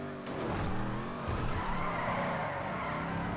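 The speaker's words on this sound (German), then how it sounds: "Da kann ich wieder richtig Drift." Car tires squeal loudly and continuously as a car drifts in GTA V Online, a long, close skid over a low engine rumble with no voices.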